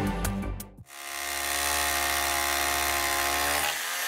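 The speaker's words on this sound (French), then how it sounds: "Les bruits de perceuses ont remplacé les cris des enfants cet été à l'école primaire Robert Schuman de Sarralbe." A power drill whirs steadily for about three seconds while wooden frames are fixed to a primary school wall, after a brief burst of knocking and handling, then it stops.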